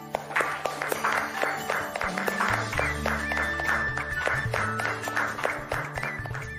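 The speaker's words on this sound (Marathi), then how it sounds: "फर्स्ट ऑफ ऑल, ऑर्गनायझर्स साठी आपण टाळ्या वाजवूया." An audience at an Emotional Freedom Technique session claps for the organizers, a steady, fairly even stream of hand claps held for several seconds.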